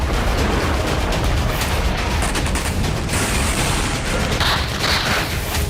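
A dense, roaring drone-strike explosion at a secret service headquarters in Sochi, Russia, with heavy rumble and crackling debris noise that sustains for several seconds, loud and close, with no talking.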